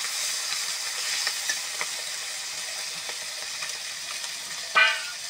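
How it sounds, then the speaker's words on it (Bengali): Tengra fish frying in hot oil, meant for a curry with winter radish: a steady close sizzle with scattered small pops and one sharper metallic clink near the end, no voices. "মাছটা ভেজে নেই, তারপরে মূলোটা দেবো।"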